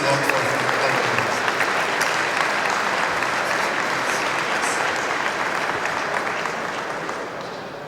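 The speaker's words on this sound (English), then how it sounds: "So I would like to have a big applause for Francesco Ferro, the CEO," Warm, sustained applause from a banquet audience at a robotics awards ceremony, dense and even for several seconds before gradually thinning and fading.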